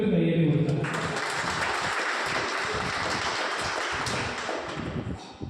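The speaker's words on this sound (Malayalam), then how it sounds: "പറ്റുമെങ്കിൽ ഒരു കയ്യടി കൊടുക്കണം." An alumni gathering at a high school, where a crowd bursts into steady applause that follows a brief bit of talk and carries on loud and dense before thinning toward the end.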